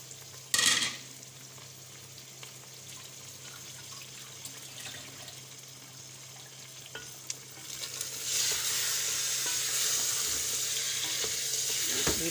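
Goat meat (gosht) frying in a pan with ginger-garlic paste, a steady sizzle that swells louder toward the end after a brief clatter near the start.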